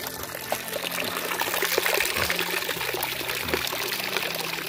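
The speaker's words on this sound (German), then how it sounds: "Und hier kommt das Wasser runtergelaufen." Water trickling and pouring down into a cup on a forest hike near green moss, a soft steady splashing stream heard close up without speech.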